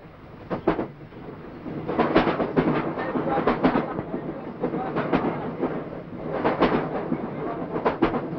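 A moving train rumbles loudly and continuously, with a rapid rhythmic clatter of wheels over rail joints running through it from start to finish.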